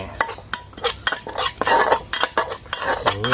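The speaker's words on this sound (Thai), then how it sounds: "เดี๋ยวรอไฟร้อนสักหน่อยแล้วคั่วเครื่องแกงหอมๆเลยนะ" Thai curry paste stir-fried in a hot pan for an eel stir-fry, heard as rapid, close scraping of a utensil against metal in short rhythmic strokes with a light sizzle underneath.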